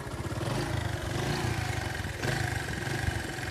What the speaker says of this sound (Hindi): ये खड़ी हुई है बाइक स्टार्ट